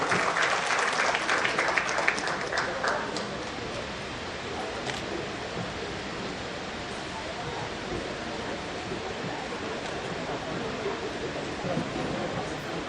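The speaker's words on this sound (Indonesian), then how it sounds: "Tepuk tangan buat Indika Energy." An audience applauds a sponsor at an evening event featuring a Jakarta vice governor's keynote, with the clapping loudest at the start and then settling into a steady, dense wash of sound.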